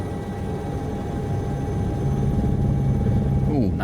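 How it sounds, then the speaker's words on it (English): A simulated Alouette III helicopter in X-Plane 12 drones steadily with a low, rhythmic rotor thump, and blade slap builds as the aircraft banks in a tight turn, with a voice talking over it. "A blade slap sound coming in."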